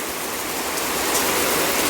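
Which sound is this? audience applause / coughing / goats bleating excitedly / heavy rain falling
heavy rain falling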